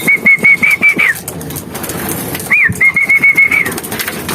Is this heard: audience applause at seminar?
no